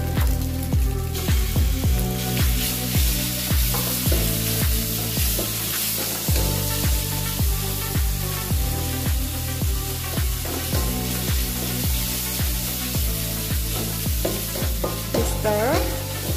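Beef fries loudly in a hot pan for fried noodles, a steady close sizzle broken by repeated scraping strokes as it is stirred, in a regular rhythm throughout with no talking.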